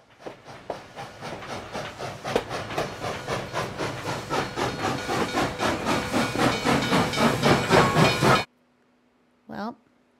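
A steam train in Minecraft on the Empires SMP server chuffs in a loud, steady rhythm of hissing puffs that speeds up and grows stronger, then stops abruptly, followed by a short whistle-like burst.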